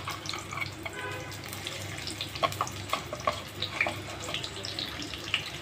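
Chopped onions sizzle and crackle in hot oil in a pan, a soft steady fizz with small scattered pops, faint and close.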